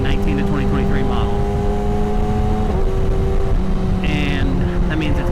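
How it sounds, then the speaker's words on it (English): A Kawasaki ZX6R motorcycle (2019–2023 model) fitted with a catless Arrow exhaust runs with a steady, deep engine drone, close and fairly loud, and shows small shifts in pitch rather than sharp revs. "Overall exhaust note didn't change, but it sounds just deeper. Like it opened up more of the low end grumble."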